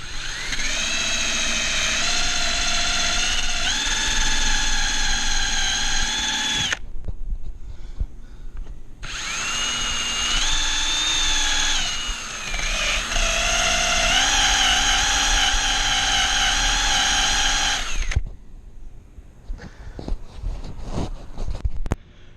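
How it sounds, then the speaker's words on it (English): Power drill spinning a 3M eraser wheel against a car body to strip leftover emblem adhesive, a loud steady high-pitched whine in two long bursts separated by a short pause, then fading to scattered lighter contact noise. "now we just grab the 3M wheel and start going at it"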